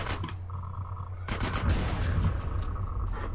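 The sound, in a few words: gunfire in video game GTA San Andreas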